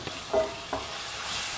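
A short, soft sizzle and stirring sound as spinach puree hits a hot pan, with a couple of faint clinks.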